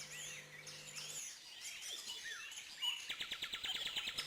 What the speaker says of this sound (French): Nous retrouvons un autre couple de bouvreuils.